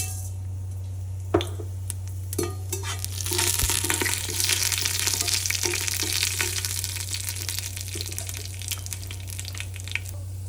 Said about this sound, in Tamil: இது தாளிதத்துக்கு பெருஞ்சீரகமும் வெந்தயமும் போட போகிறேன்.